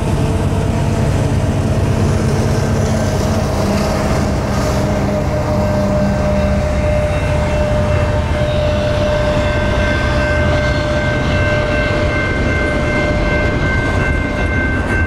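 A CP Rail freight train rolls past at a crossing, a loud continuous rumble and grinding of wagons close by, with a steady metallic ring layered over the heavy low roar.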